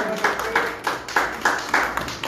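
Applause at a press conference for the XIII Cricol Marathon 2023, a crowd clapping in several short rhythmic bursts roughly every half second, moderately loud in a reverberant room.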